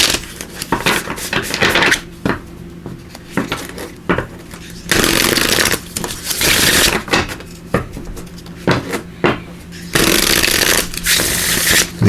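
Affirmators cards being shuffled by hand, repeated rustling and riffling bursts of varying length spread over about twelve seconds, close to the microphone with some handling noise.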